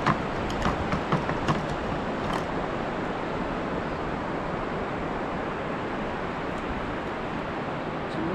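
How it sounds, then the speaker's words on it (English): Large ocean waves break on a beach while fishing, giving a steady, broad roar of surf with a few sharper crashes early on and no voices. "Some massive waves coming through."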